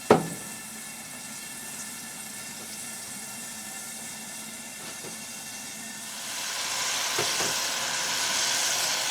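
Smoked ponce (chaudin), a stuffed pig stomach, sizzles in a shallow layer of cooking oil, giving a steady close hiss that swells louder and brighter in the last few seconds, with no voices.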